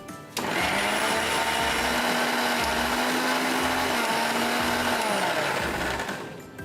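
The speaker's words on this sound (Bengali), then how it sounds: "এবারে ব্লেন্ডারের পালা" Kitchen blender running after ingredients for a strawberry chia seed pudding or pineapple mint drink go in, switching on sharply into a loud steady whir that holds for several seconds before winding down.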